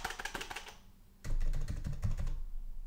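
Rapid keystrokes on a new mechanical computer keyboard, a brief burst of clicks, a short pause, then a louder, denser run of typing close up with no voices.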